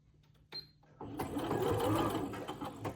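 Sewing machine running a straight seam, a soft click or two followed by a steady, close mechanical whir that holds for a couple of seconds.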